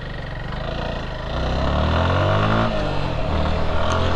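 A motorcycle setting off on a highway, its engine droning and rising steadily as it accelerates, close and continuous with wind rush.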